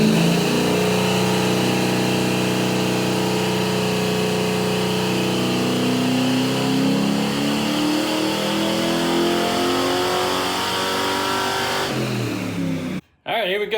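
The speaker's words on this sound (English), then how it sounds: "So let's go ahead and get that baseline pull with no nitrous" Car engine with Sniper EFI and a nitrous setup running a baseline dyno pull without nitrous, a loud sustained rev climbing steadily in pitch for about twelve seconds before cutting off abruptly.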